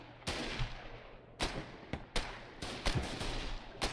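Bursts of gunfire from a gun nest in the game Foxhole, several sharp shots spread irregularly across the stretch over a low steady background hum, some loud and close, others shorter and fainter.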